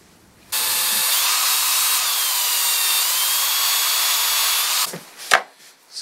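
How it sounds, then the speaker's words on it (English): A power drill whirs steadily for several seconds close by, drilling a small hole in wood during furniture restoration, then stops, followed by a few short knocks and rattles. "Need to drill a little hole in that."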